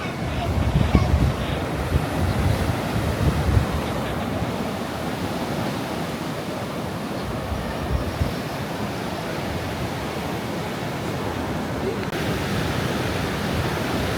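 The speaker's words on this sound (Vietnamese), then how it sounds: "biển ở đây nó hơi động một tí, sóng rất là to các bạn" Big, rough sea waves surge and crash continuously onto a beach at Huế on a windy late-year day, a loud, steady roar of surf with wind buffeting the microphone and no pauses.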